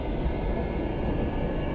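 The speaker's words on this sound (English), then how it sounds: "But it's a pretty nice train" A Gautrain in South Africa rides along with a steady low rumble and rushing hum, continuous and moderately loud, with no distinct clacks.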